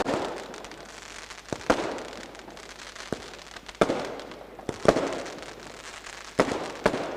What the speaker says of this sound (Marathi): फटाक्यांची आतिषबाजी आणि संगीतचा जल्लोष.